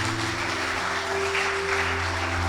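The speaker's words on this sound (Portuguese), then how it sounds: "Aplauda bem forte a Jesus." A church congregation applauds loudly for Jesus after a sermon, a dense steady roar of clapping over a persistent low hum, with no speech.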